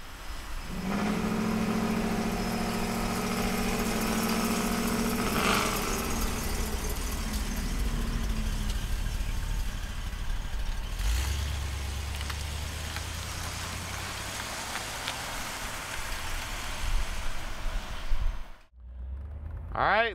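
1964 Cadillac DeVille convertible with its engine running, a low steady rumble that shifts in tone partway through, heard up close under faint background noise, ending in a brief dropout and a squeal.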